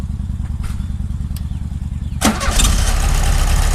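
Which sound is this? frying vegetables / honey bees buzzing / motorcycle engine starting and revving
motorcycle engine starting and revving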